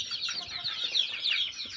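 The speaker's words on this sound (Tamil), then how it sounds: "நம்ம சிக்ஸு சேவல் கோழி எல்லாம் பாருங்கள், இந்த வீடியோவில் பின்னாடி வரும்." Chickens and roosters cluck together in a poultry farm selling month-old chicks, a steady busy flock chatter that continues without pause and stays fairly close throughout.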